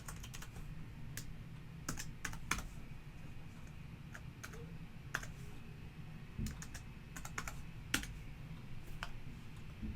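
A password is retyped on a computer keyboard, with soft, scattered key taps and a few louder clicks spread evenly over a low background hum, close and quiet without any talking.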